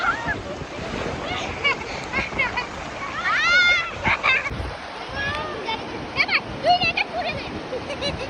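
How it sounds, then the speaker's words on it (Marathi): Sea waves rolling in and splashing at the shore, the surf a washing roar under wind buffeting the microphone, with people talking and children calling over it. "बघ लाट येते बघा"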